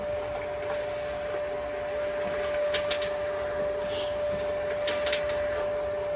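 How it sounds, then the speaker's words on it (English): A printer runs steadily, printing labels or orders for a small clothing brand, a continuous close mechanical whir with a steady tone and a few brief higher clicks, without any speech. "let me send these guys to print first"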